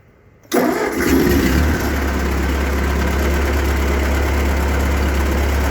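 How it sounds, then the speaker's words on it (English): A Ford 8N tractor engine cranks briefly, catches and fires up loudly, then settles into a steady, close, rumbling idle. "So let's fire it up, see if it squirts oil out anywhere."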